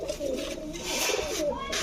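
Large shadel pigeons coo in a low, soft, rolling burst, close by and steady for a moment.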